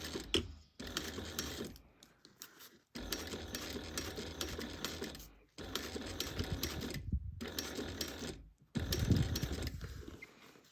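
A sewing machine stitches a seam on a bag in several steady bursts of rapid mechanical whirring, pausing briefly between runs, close and loud with no talk.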